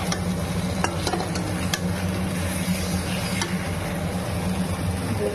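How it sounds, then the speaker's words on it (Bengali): Ground cumin powder fries in a hot pan, a steady close sizzle with a few sharp scraping stirs of a utensil early on, continuous and fairly loud with no talking. "দেখো জিরার গুঁড়াটা একটু ভাজি লেগ"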